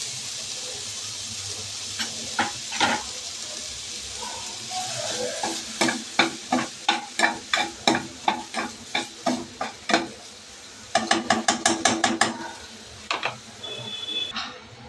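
Mawa (milk solids) stirred and roasted in a pan, with a spoon scraping in a steady rhythmic run of strokes over a soft, constant sizzle, close up, and a quicker burst of scrapes near the end.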